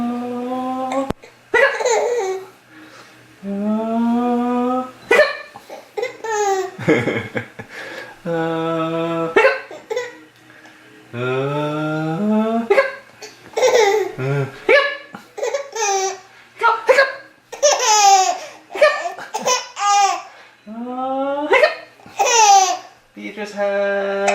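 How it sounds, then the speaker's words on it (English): A baby laughs and giggles in bursts, with sharp little hiccups breaking in between the laughs. An adult talks and coos close by throughout. "Beatrice has what? Hiccups!"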